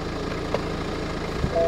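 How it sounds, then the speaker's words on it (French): BMW F30 316D diesel car idling after starting, a low, steady rumble heard up close with a couple of brief knocks and no talk. "Ah ben elle démarre nickel, elle a encore de la batterie."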